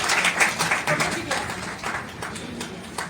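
Audience applause at a Hindi book launch and award ceremony, a dense, steady patter of many hands clapping, fairly close and sustained with no gaps, with some voices mixed in underneath.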